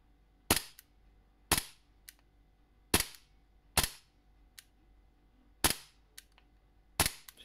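An AW Custom/ASG Taran Tactical Innovations STI airsoft pistol fires six sharp, loud, close single shots from a propane-fed magazine, spaced about a second apart with quiet gaps between.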